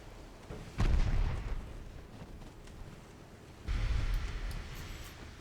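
Naval guns and a torpedo launch in a Korean-campaign naval warfare game: two heavy booming blasts a few seconds apart, each followed by a rumbling, hissing tail, loud and close with no talking.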